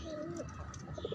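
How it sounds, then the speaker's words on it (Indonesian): A very large jumbo-sized pigeon coos softly in a cage, a short low throaty call with a few brief bubbling notes at the end, faint and close. "Ini merpati sangat besar ya ukurannya ya, jumbo ya, sangat besar sekali."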